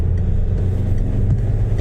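A car accelerating along a road in Cumbernauld, Scotland, its mid-range engine rising in a loud, close rumble that holds steady for a couple of seconds.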